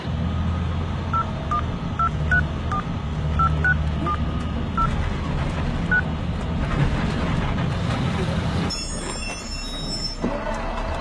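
Short keypad tones from a mobile phone dial a number in a quick, uneven series, played over steady train and rail noise with wheel rumble. A louder burst of noise follows near the end.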